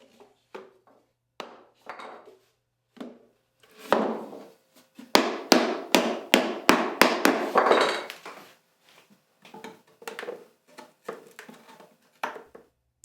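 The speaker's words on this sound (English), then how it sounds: "a mallet helps. And he gives that a gentle tap just to seat those joints better" A wooden mallet gives gentle taps to seat the hand-cut joints of a glued wooden box, sounding as sharp knocks, sparse at first, then a quick burst of firmer raps in the middle and scattered light taps afterward.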